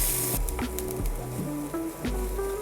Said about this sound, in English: we're gonna add some butter and add our onions. Add our onions and just stir this around